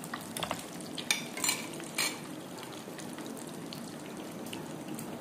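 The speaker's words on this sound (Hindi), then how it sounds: "ये ऐसे शैलो फ्राई करके और फिर आपने निकालने हैं" Egg chicken donuts shallow frying in a pan of hot oil, a steady close sizzle and bubbling throughout with a few brief scraping clinks near the start, no voices.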